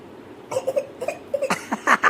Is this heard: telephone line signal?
no